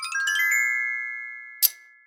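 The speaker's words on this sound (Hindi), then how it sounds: "तभी फोन की घंटी दोबारा बज उठती है।" A telephone rings once in an animated comic scene, sounding as a bright electronic chime that fades away slowly, followed by a sharp click.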